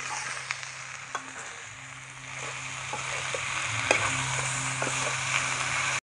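Pork and potatoes dry frying in a wok, a steady sizzle with scraping stirs and occasional clinks of the spatula against the pan, close and continuous.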